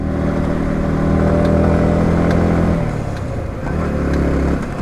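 A motorcycle engine climbs a steep road toward Sajek Valley at easy, unforced throttle, a close, steady rumbling drone that dips briefly in pitch partway through before settling again, with no talking.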